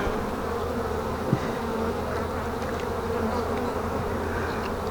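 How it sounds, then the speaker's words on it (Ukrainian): Honeybees buzzing thickly and continuously around an opened hive in spring after overwintering, a dense close swarm hum with one small knock. "Працюю швидко, бо ніхто не відміняв напад бджіл."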